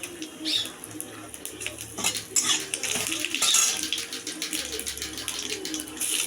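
Whole cumin seeds and chopped ginger being stirred in hot oil in a pan while cooking bottle gourd, with steady sizzling and repeated scraping clinks of a utensil against the metal pan, close and continuous.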